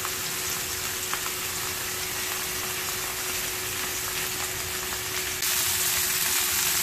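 Pork-wrapped tofu rolls fry in a pan with a constant close sizzle and crackle, growing slightly louder and brighter near the end.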